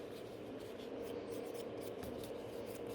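A 180 grit file works over sculpted builder gel nail extensions with a soft, steady rasping scrape. The sound is faint, close and continuous, with no talk.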